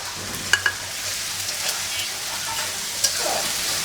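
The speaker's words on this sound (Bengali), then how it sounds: "আদা রসুন বাটা দিয়ে সুন্দর করে আগে ভেজে নিই" Ginger garlic paste and spices fry in a pan with a steady, close hiss of sizzling oil, broken by a few sharp pops and light stirring scrapes.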